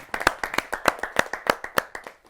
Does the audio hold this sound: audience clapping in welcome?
yes